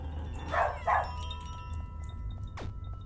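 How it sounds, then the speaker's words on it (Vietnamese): A dog gives two short barks in a video game, chasing off cats at a gate, fairly close. A faint whine and a sharp chirp follow over a low steady hum. "Để sủa con mèo á, phải sủa con mèo"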